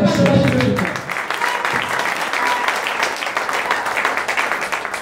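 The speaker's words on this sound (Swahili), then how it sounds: "Piga Yesu makofi" A church congregation claps and applauds for Jesus, a dense, sustained wash of many hands from a large crowd, with a brief voice at the start before the clapping carries on alone.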